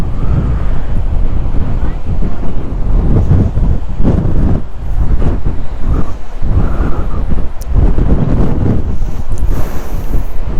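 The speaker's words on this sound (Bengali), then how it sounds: "খুব হাওয়া" Strong, constant wind buffets the microphone at a beach road beside the sea at Digha, with rough waves rolling in underneath and gusts swelling through the roar. Occasional faint voices come through beneath the blustering.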